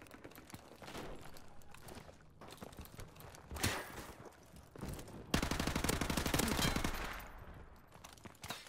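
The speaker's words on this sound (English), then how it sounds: "he got me with his pistol" Gunfire sounds in Call of Duty Modern Warfare Remastered, with bursts of rapid shots and a sustained volley in the second half over faint game ambience and footsteps. All of it is fairly quiet.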